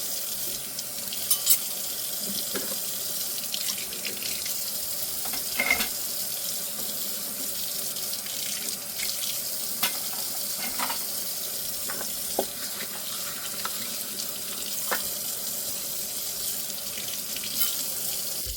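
Running tap water splashes steadily into a dish pan while dishes are washed by hand, with occasional clinks of silverware and plastic and metal knives in the water, continuous and close with no talking.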